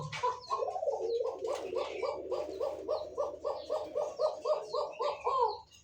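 Kaka pigeons cooing in a loft: a rapid run of rhythmic, throaty coos repeating steadily and close, with a few softer chirps around them and no talking.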